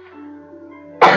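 A single sharp, loud cough bursts out near the end after a quiet stretch of faint tonal game background sound.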